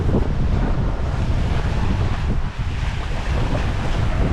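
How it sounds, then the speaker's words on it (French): Wind and sea waves on a sailing boat at sea off Saint-Brieuc, with a steady roar of wind over the microphone and surging swell washing against the hull, loud and continuous without any speech. "on se fait pousser par le vent, poussé par les vagues, par la houle"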